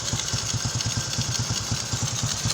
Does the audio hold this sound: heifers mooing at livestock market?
no